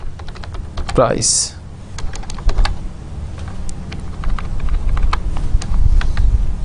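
Computer keyboard keys clatter in quick irregular taps as C++ code is typed during a programming lecture, running under a man's explanatory speech.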